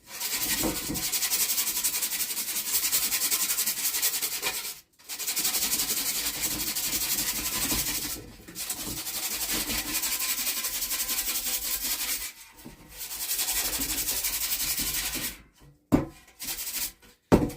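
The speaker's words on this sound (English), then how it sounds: "So I'll just give this a little sand down." Sandpaper rubbed by hand over a part during a wood stove install in a small 12x12 cabin, steady raspy strokes in long bursts with brief pauses between, close and fairly loud, ending in a few short scrapes.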